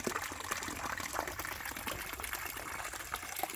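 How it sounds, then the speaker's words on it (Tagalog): Clear spring water bubbling up beside a mountain stream, a constant close trickling and splashing rush with no voices over it. "Ayan yung bukal ng tubig."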